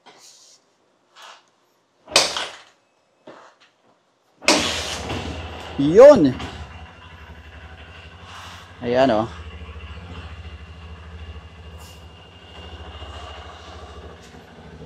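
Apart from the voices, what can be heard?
Honda CRF150L motorcycle engine kickstarted and idling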